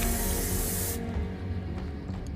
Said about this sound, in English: let's reapply the bug spray